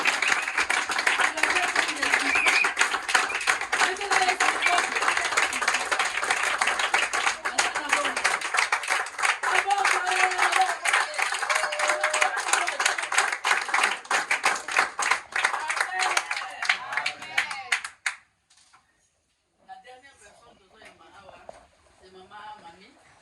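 A church congregation claps and applauds vigorously in a dense, continuous patter for about eighteen seconds, mixed with voices and cheering, then stops abruptly; talk follows.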